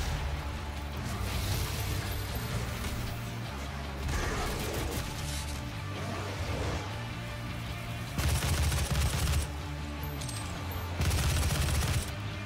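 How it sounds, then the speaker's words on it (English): Rapid bursts of laser and gunfire from the video game DOOM, loud and sustained over a busy game soundtrack, with denser volleys near the end and no talking. "Don't shoot lasers at me."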